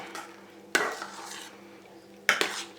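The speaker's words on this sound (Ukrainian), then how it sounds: "Сюди ж вводимо наші підзбиті вершки і гарно перемішуємо." A spoon or whisk scrapes around a bowl as whipped cream is folded into sponge cake mixture, with two sharp clinks against the dish amid soft steady stirring.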